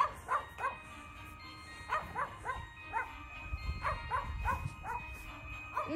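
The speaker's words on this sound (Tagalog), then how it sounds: "Kinakahulan ako ng aso ko. Tapos yung kapitbahay na aso." Dogs barking in short bursts, one nearer and another answering farther off, with a low rumble of background noise underneath.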